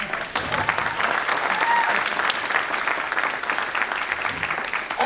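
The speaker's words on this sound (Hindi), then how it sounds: "अब ऐसी झटुल्ली ताली बजाओगे तो दम कहां से नजर आएगा?" Audience applause at a sales training seminar, steady and fairly subdued clapping from a crowd lasting several seconds without a break, with a voice speaking faintly underneath.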